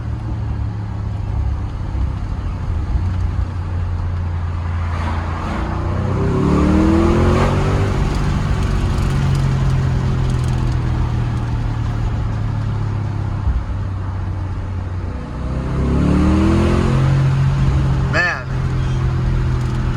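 A 2021 Audi SQ7, a 500 hp performance SUV, drones steadily with two sharp rev blips on downshifts, each a quick rising sweep, while a person talks over the engine noise.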